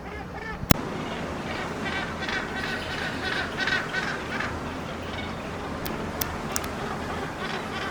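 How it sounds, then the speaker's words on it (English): A flock of Cape cormorants calling at sunset at Lambert's Bay, South Africa, a steady chorus of hoarse, honking calls at moderate distance, with a few sharp clicks breaking through. "There you can see a flock of Cape cormorants as the sun is setting."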